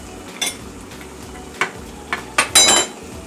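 A utensil scrapes and clanks against a pan while clams and spaghetti with vegetables are stirred, a few sharp scraping strokes over a soft frying hiss, close and otherwise quiet.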